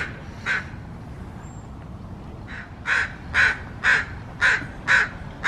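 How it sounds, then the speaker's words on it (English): An agitated crow caws repeatedly from a cedar forest, a lone call followed by a run of five or six harsh, evenly spaced caws, fairly close and clear against quiet woodland background. "That bird is not happy that I'm here."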